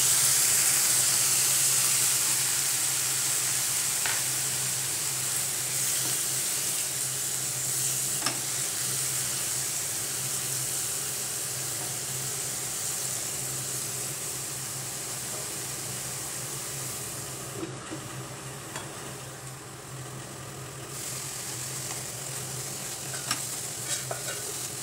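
Eri silkworms sizzle steadily in a pan with a spoonful of water and soy sauce, a continuous broadband hiss with a low hum beneath, occasional faint stirring clicks, no talking.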